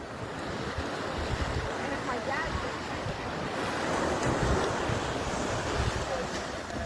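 Ocean surf on a Florida beach on Thanksgiving Day: a continuous broadband wash of waves mixed with wind buffeting the microphone, steady and fairly loud, with no distinct single breakers.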